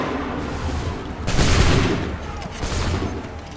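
A loud musket volley crackles in an Assassin's Creed III battle, with a dense burst of gunfire swelling and fading, then a second smaller volley, set under a steady roar of battle noise.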